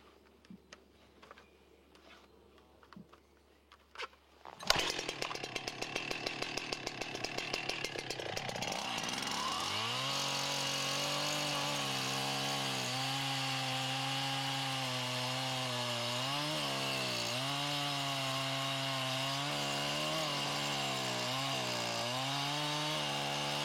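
A chainsaw cuts into a hardwood tree during felling. After a quiet start it roars in at close range and holds a loud, continuous whine, its pitch sagging and recovering as the bar bites through the wood.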